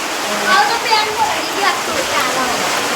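Water pours steadily into a stone temple pond (kund) with green algae, a continuous splashing rush close by, with faint voices in the background.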